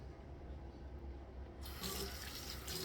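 Tap water runs into a sink while Stephen Davidson's shave soap is being lathered. A quiet stretch gives way to a steady, close splashing stream partway through.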